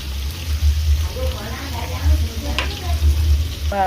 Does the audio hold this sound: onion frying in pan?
yes